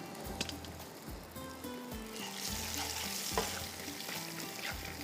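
Spices sizzle and crackle in hot oil for a tarka, a steady frying hiss with occasional stirring clinks and knocks, close and moderately quiet.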